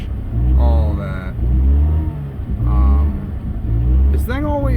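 Rotary-engined car running through its built-in warm-up, the engine revving up and down in repeated rising and falling swells, loud and close, with someone talking over it.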